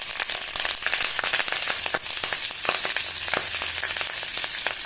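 Drumstick (moringa) leaves fry in hot oil in a pan for tuvar dal, giving a loud, dense, steady sizzle full of sharp crackles and spitting pops, heard up close without speech.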